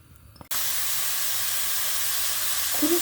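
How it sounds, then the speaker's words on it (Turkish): Chopped dry onions softening in olive oil in a pot, giving a steady, loud hiss and sizzle that starts abruptly and continues without pause. "Doğramış olduğum kuru soğanımı ilave ediyorum ve yumuşatıyorum."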